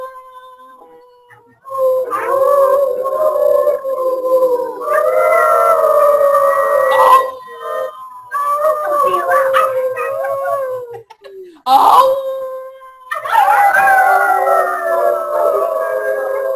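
A human voice imitates a dog's howl: long, wavering, mournful tones in several drawn-out bursts with short pauses between, loud and close.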